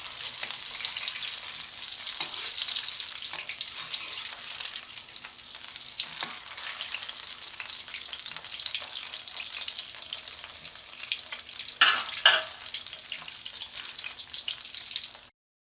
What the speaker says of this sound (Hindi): तकरीबन 7 से 8 मिनट लग गए हैं पकोड़े फ्राई होने में।